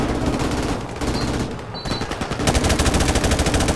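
Rapid automatic gunfire from the video game Call of Duty: Modern Warfare Remastered, dense loud bursts of rattling shots with a brief lull midway before resuming harder.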